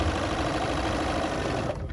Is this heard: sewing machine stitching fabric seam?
yes